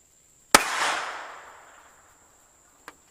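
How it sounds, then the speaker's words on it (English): A single sharp gunshot from a Tanfoglio GT-27 pistol fired left-handed outdoors cracks nearby, with a long echoing decay, followed about two seconds later by a faint distant report or echo. "I'm going to shoot it for the first time with my left hand"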